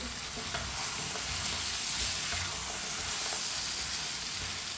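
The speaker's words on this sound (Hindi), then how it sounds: "मिक्स कर लेंगे फलियों को भी" Cut beans being stirred into potato curry in a hot pan, a continuous loud sizzle and frying hiss with scraping of the spoon through the vegetables, no talking.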